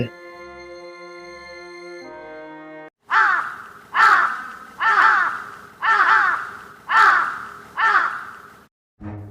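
A cartoon crow caws six times in a steady rhythm, loud and close, after a short stretch of sustained tonal music.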